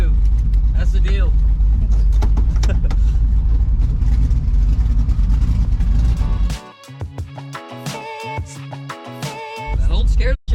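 A 1968 Camaro fitted with a Holley EFI Sniper fuel-injection system drives along, its engine a loud steady rumble for several seconds before dropping away as people talk in the car.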